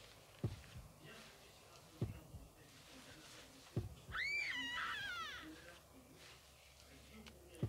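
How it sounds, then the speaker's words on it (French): A character in the horror video game Horrorfield lets out a high, wavering scream of fear, a single cry heard once over quiet game ambience, with a few dull thumps nearby. "Elle hurle de peur."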